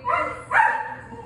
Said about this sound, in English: So that's my dog in the background.